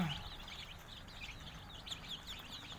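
Soft, high-pitched peeping of day-old chicks, a steady chorus of small chirps, faint and continuous with no talking.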